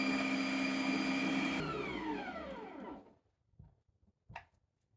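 Electric meat grinder mincing venison for a homemade pâté, a loud steady motor whine that spins down and stops, followed by a few faint clunks and a short rattle.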